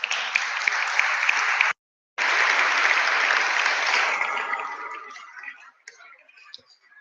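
A room full of people applauds a ministry team member as she stands, dense loud clapping that cuts out briefly, resumes strongly, then thins to scattered claps and fades away.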